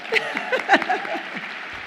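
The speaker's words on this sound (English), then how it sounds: "Yes, that deserves an applause." Commencement audience at the UConn Law 2024 ceremony breaks into brief applause, a burst of clapping mixed with voices and a few cheers, fading by the end.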